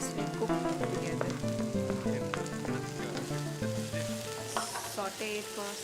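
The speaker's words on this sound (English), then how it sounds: "Saute it for slightly 2 minutes. Just capsicum and the carrot." Capsicum and carrots sauté in a hot pan on a cookery show, giving a steady sizzle and stirring under prominent background music; no one speaks.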